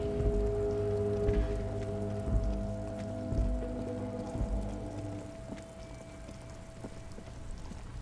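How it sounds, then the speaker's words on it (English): Steady rain in the video game Disco Elysium, a constant soft wash of falling water with low rumbling pulses from a traffic jam underneath, no voices. "Stuck in the rain in a traffic jam, man."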